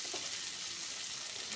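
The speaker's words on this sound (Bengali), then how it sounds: "এঁচোড়ের সঙ্গে মশলাটা খুব ভালো করে ভাজা হয়ে গেছে" Jackfruit frying with spices in a pan for a vegetarian dish, a steady close hiss and sizzle with no voices.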